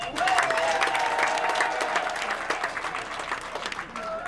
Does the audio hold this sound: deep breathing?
no